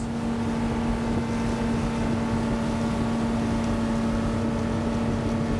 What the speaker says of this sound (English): Listen to that motor. Beautiful. Give it some more. So I'm accelerating up through 25 knots.